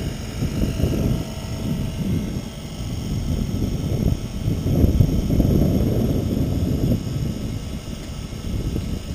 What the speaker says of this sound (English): You can hear the compressor kick in.